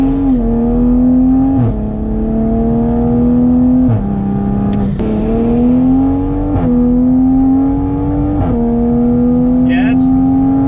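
A Toyota Supra A90 accelerates hard from inside the cabin, its engine droning in rising pulls broken by quick upshifts about every two seconds, loud and close throughout.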